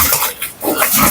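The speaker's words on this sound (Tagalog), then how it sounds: "Ang daming baboy yan si Bayaw." Pigs grunting on a crowded farm where many animals are kept, a dense cluster of close, loud snorts and squeals running through the short moment with a brief dip in the middle.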